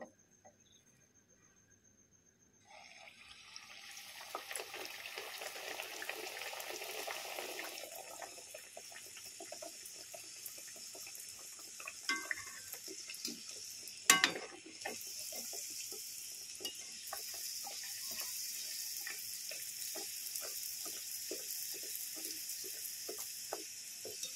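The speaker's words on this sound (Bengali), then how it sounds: "চলুন তাহলে একে একে ভেজে নিই আমি পুরিগুলো।" Dal puris deep-frying in hot oil make a steady, bright sizzling crackle that starts a few seconds in and runs on with one sharp clatter midway.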